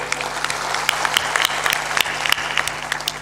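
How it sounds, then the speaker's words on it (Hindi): Applause from a satsang audience, a steady wash of many hands clapping with sharper individual claps popping out, moderately loud and continuous throughout. "थोड़ा जोरदार ताली बजाया करो"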